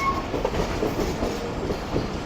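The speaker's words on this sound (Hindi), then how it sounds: "ये ट्रेन अब हमारी दरिया सिंध को क्रॉस करने के लिए थोड़ा सा हाइट पर जा रही है" A Rehman Baba Express passenger train rolls along the rails as it climbs toward a crossing of the Indus, with a steady, close rumble and faint rhythmic wheel clatter throughout.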